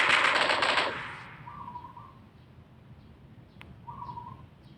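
Gunfire in the PUBG Mobile game: a rapid, loud automatic burst fills the first second, then fades, leaving a quiet ambience with a few brief bird-like calls and a faint distant shot.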